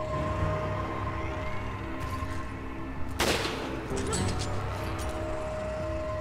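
Gunshots in the Resident Evil 5 game, with a sharp loud shot cutting through midway and fainter shots around it, under ongoing game sounds.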